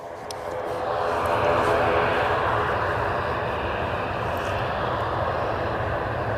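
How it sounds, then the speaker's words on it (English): An Aer Lingus ATR 72-600 turboprop from Dublin at Edinburgh Airport gives a steady engine roar that builds in the first second, then holds level and fairly loud at middle distance. "Aer Lingus. There we go. That one from Dublin, ATR 72600."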